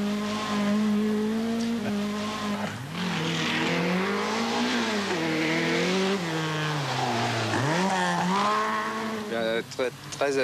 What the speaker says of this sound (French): Jean-Claude Andruet, ici au volant d'une Visa 4 roues motrices